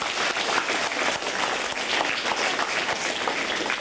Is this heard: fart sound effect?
no